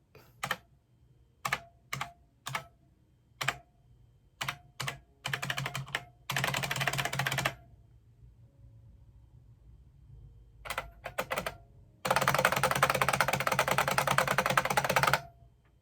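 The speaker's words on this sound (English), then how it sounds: "Keys are starting to work when they weren't working previously." Keys on a 32-year-old computer keyboard click in sparse single taps, then break into two sustained stretches of rapid, continuous clattering, close and alone without talk.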